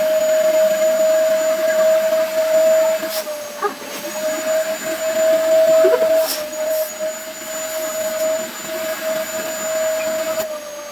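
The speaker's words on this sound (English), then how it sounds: "So let's vacuum pack and see what happens." A vacuum sealer pump sucks the air out of a storage bag packed with clothes, giving a steady, loud motor whine that runs for the whole stretch with a few brief clicks and rustles along the way.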